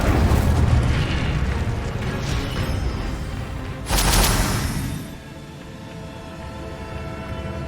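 A loud burst from the Incendio fire spell in the video game Hogwarts Legacy flares up midway through ongoing spell effects and rumbling combat noise, then dies back to a quieter hum.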